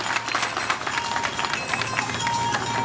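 Crowd clapping at a religious satsang gathering as a child's birthday cake is cut, a dense steady patter of many hands with murmured voices, close and continuous.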